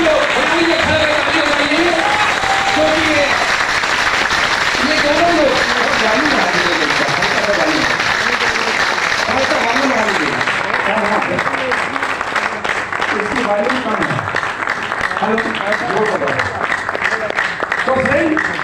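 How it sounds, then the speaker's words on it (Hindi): Applause from an audience at a company business meeting, a dense continuous patter of clapping sustained for a long stretch, with people talking and calling out over it throughout. "एक बार जोरदार तालियां होनी चाहिए इनके लिए"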